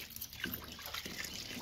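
Water trickles and drips into a cattle feed mix of bran, rice and salt, making a brief, soft liquid sound with no talk.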